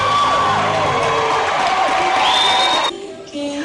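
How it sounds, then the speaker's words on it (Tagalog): Excited crowd cheering and whooping for Jessica Sanchez at an American Idol viewing and voting party, loud mixed shouts and high-pitched voices sustained for nearly three seconds before dropping to a quieter murmur. "Panayang hiyawan sa tuwing ipinapakita o nababanggit si Jessica."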